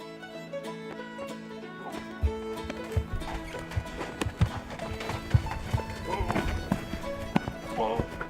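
A horse hauling a harvested bison on the National Elk Refuge, with hooves clip-clopping and thudding in uneven bursts, a brief whinny and people talking over the effort.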